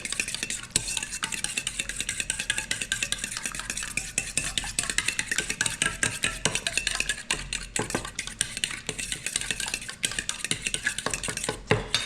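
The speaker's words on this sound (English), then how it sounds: "here we have the eggs in the bowl, and we're going to add the cream to that. And then we're just going to beat this a little bit." A utensil whisks eggs and cream in a bowl for pork belly and spinach carbonara, a fast continuous rhythm of close metallic clicks and scrapes that runs steadily for the whole stretch with no talking.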